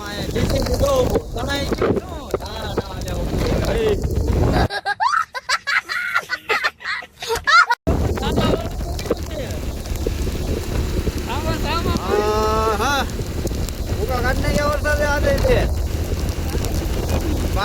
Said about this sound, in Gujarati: જીકી નાખ્યો વરસાદે